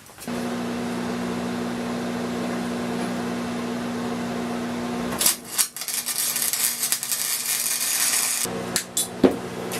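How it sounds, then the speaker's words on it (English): A poorly performing welder tack-welds a stretched Yerf Dog go-kart frame. A steady electrical hum is followed by a few seconds of loud, crackling, sputtering bursts, close up and with no talking. "I'm just going to put a tack weld on it right now"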